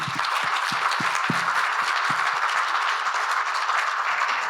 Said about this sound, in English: Round of applause for Team India.